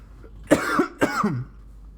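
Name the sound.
cough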